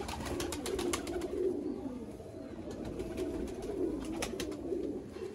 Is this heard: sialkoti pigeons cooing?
yes